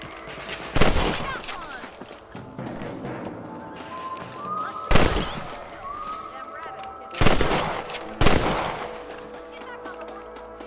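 Four sharp gunshots in the video game Red Dead Redemption fire at irregular intervals, loud and booming, while someone talks briefly between them.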